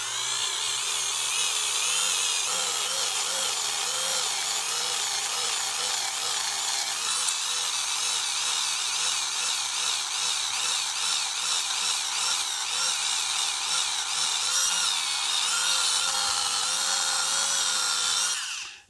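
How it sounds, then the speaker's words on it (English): A Dremel fitted with a brush polishing a Nordmende Rigoletto 59 radio chassis at very low speed, a steady high whine with rough brushing grit running continuously and close for nearly twenty seconds, then stopping; no talking. "I'll just use the Dremel with that brush on there"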